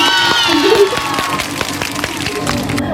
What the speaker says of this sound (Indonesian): tepuk tangan untuk Anjani.